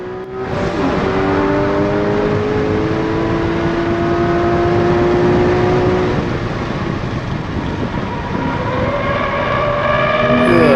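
Race car engine on a fast lap at VIMC, loud and close throughout, with rising revs, shifts and sustained high-pitched drone from start to finish.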